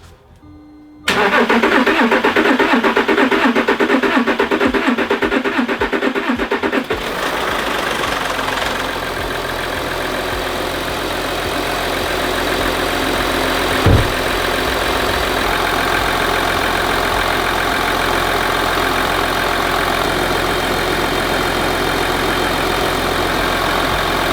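A freshly repaired Audi 3.0 TDI CNRB diesel engine cranks briefly, catches, and settles into a steady, loud clattering idle, heard close with no talk and one small bump partway through.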